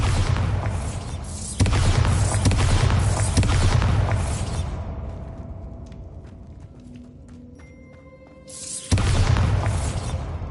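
Explosive spell blasts in the PS5 video game Hogwarts Legacy: loud broadband booms and bursts dominate the opening seconds, fade into a quieter lull with faint tones, then a fresh blast erupts near the end.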